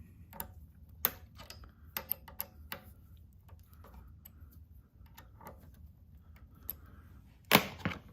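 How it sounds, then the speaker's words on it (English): Small metal clamping screws being tightened on the pivot block of a rear presser bar, giving sparse, faint clicks and ticks of a screwdriver against metal, scattered irregularly in a quiet room with one sharper snap near the end. "I'm also tightening both of these clamping screws that hold this pivot block on the rear presser bar."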